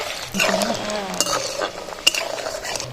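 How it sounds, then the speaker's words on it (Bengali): Lentil dumplings (bori) hit hot mustard oil in a pan with soft sizzling, punctuated by metallic clinks and scraping of a utensil against the cookware, fairly close and moderate in level. "বড়িগুলো এবার তেলের মধ্যে দিয়ে দিচ্ছি"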